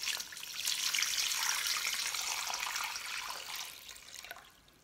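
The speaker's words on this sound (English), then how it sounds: "Add a lot of cold water into the dough." Cold water pours into a bowl of rested noodle dough, a continuous bright splashing trickle that swells and then tapers off, close and alone with no voices.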